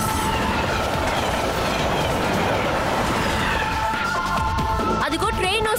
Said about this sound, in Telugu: అదిగో ట్రైన్ వస్తోంది.